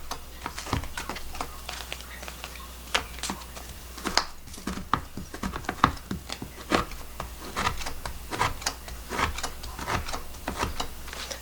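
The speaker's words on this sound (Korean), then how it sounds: "대파 있어도 괜찮습니다. 자 이런 식으로 썰어 놓을게요." A knife chops green onion on a cutting board in quick, irregular close taps, a steady run of crisp strikes with brief pauses between bursts.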